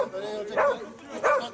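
Hunting dogs barking at a driven-hunt meet in Lapseki, Turkey, two loud bark bursts about 0.7 seconds apart with a steady murmur of voices and outdoor noise underneath.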